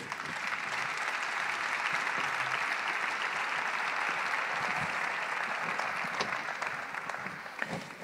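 An evangelical congress audience at a night session gives a strong round of applause to the speakers, a continuous even clapping that holds steady before tapering slightly near the end.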